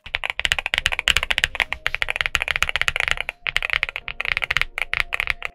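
Rapid typing on a NuPhy Halo75 V2 mechanical keyboard produces dense, soft-toned clacks in quick bursts, close up and steady, with a brief pause midway and no voices.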